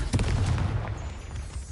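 Confringo blasting spell in the Hogwarts video game, a short booming explosion with a low rumbling tail that fades within a second or two.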